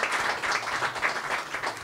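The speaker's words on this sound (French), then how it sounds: "je pense que vous pouvez l'applaudir" An audience applauds warmly, a thick, continuous wash of clapping at steady volume throughout.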